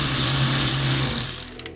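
An electric ratchet spins fast and loud while removing an air pipe on a Ford Capri 2.8i. Its steady whirring drone lasts about a second before winding down.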